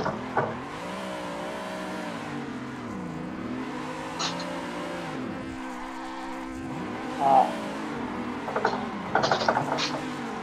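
A car accelerating hard with spinning tyres in first or second gear, a steady loud engine drone with rising and falling pitch sweeps, plus a few brief squeal-like bursts near the end.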